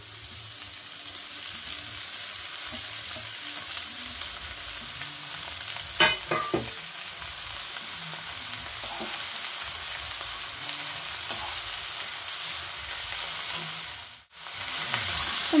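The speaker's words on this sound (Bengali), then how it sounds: "ভালো করে নেড়ে চেড়ে নেব। পেঁয়াজ ভাজাটা ভালো করে শাকের সাথে মিশিয়ে দেব।" Water spinach sizzles steadily in oil with fried onion and garlic, a continuous close frying hiss broken by a few clinks and scrapes of a stirring spoon; no talking.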